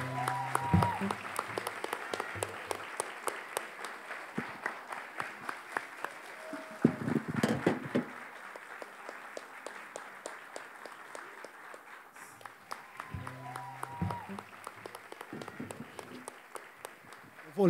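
A lecture audience bursts into applause, with dense clapping rising and falling in several waves at moderate distance and someone speaking over parts of it.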